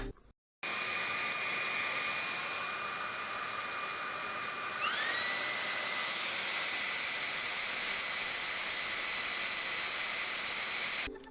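A Dreame V11 cordless stick vacuum cleaner starts up and runs in turbo mode, a steady loud whine with airy rushing that steps up in pitch partway through and then holds, alone with no talk.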